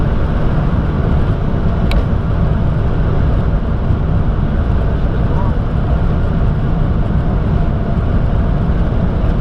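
Cockpit noise of a Boeing 747 touching down in a crosswind on a short runway and rolling out: a loud, dense, continuous roar of engines and airflow that stays steady throughout, with a faint tone near the start.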